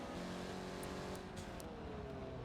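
Engine of the 86 series safety car in a racing video game, a steady close droning hum with a sustained tonal note, continuous and fairly quiet with no voices.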